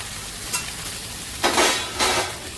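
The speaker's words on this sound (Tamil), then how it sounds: "இப்போது கட் பண்ணி வச்ச தக்காளி போட்டுடலாம்" Chopped tomatoes and green chillies sauté in a hot pan with a steady soft sizzle, and a few louder stirring scrapes come through near and clear. No one speaks.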